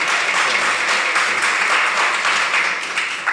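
Audience at a young lawyers summit applauding in a steady, even patter of many hands, fairly loud and continuous for a few seconds.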